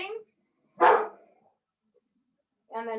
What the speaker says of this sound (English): Oh, there's the dog barking.